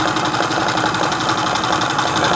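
A Janome household sewing machine runs steadily, stitching with a fast, even mechanical whir and rhythmic needle clatter, loud and close throughout with no talking.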